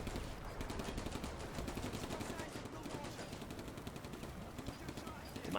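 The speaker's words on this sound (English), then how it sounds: "The Maxim is trying to pin that that half track, but to no avail really." Maxim machine gun in Combat Mission rattles off rapid, continuous bursts at a half-track, dense steady gunfire filling the whole stretch with a voice talking over it.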